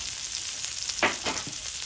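Steak frying in a hot cowboy wok discada, a close, steady sizzle with a few sharper crackling bursts as the meat hits the hot metal.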